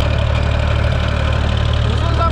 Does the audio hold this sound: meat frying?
no